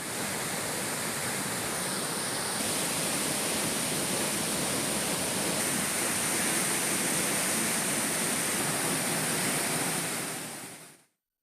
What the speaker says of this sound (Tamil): குற்றாலத்தில் வெள்ளப்பெருக்கு ஏற்பட்டுள்ளது